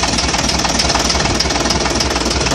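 A Leyland engine in a Routemaster bus, parked in a shed for a winter check, revs with a loud, dense, continuous mechanical roar and rapid knocking pulses that run steadily through the whole stretch, with no voices.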